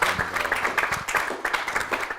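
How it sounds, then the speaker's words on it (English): Audience at a technical summit applauds after a presentation, a short burst of scattered clapping, fairly quiet and steady throughout. "give a big hand of applause for Maximilian."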